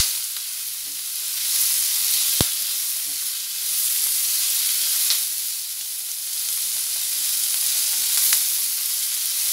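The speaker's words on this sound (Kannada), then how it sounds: "ಇವಾಗ ಇದನ್ನು ಚೆನ್ನಾಗಿ ಹುರ್ಕೊಳ್ಳೋಣ" Capsicum sautéing in oil in a pan for a capsicum gojju, a loud steady sizzle with occasional sharp clicks of stirring, close and continuous without speech.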